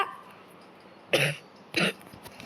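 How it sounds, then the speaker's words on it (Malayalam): A man with a sore throat coughs twice in quick succession, close and fairly loud over a faint background hiss, during work building pillars. "തൊണ്ടയ്ക്ക് ഇച്ചിരി ചുമയും ഒക്കെയാണ് ഗൈസ്. അതുകൊണ്ടാണ് ചുമയ്ക്കുന്നത്."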